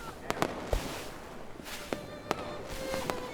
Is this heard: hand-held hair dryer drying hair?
no